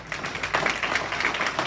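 A church congregation claps during a worship service, a steady patter of hands at moderate volume that runs for under two seconds with no voices over it.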